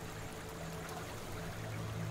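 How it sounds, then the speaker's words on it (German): Steady river water splashing and trickling with a soft continuous wash, faint and even throughout, no voices. "Das Plätschern vom Wasser"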